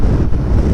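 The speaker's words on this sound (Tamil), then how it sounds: "இப்போயே காற்று சூப்பராக அடிக்குது." Strong wind roars and buffets the microphone beside a row of windmills on the Kanyakumari bypass, a loud, steady, low rumble with no break.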